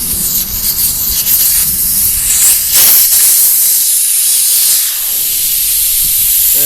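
Air hissing out of a full-size spare tire on an old steel rim after the valve core is pulled, a loud, steady rushing hiss that swells and fades slightly, close up with no talking.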